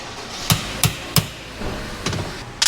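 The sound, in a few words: driving a press-fit axle out on a Yamaha Sidewinder snowmobile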